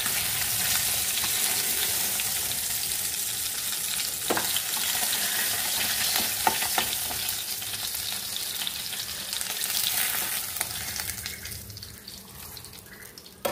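Fish frying in hot oil in a pan, a continuous close sizzle with occasional sharp crackles and clicks, thinning out toward the end.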